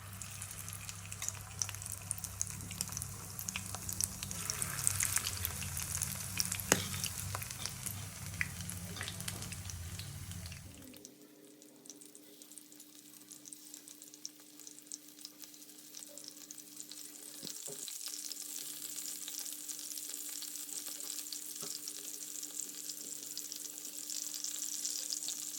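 Food frying in hot coconut oil in a home kitchen pan, a loud crackling sizzle that suddenly drops to a quieter steady bubbling hiss partway through, with scattered stirring clinks and no talking.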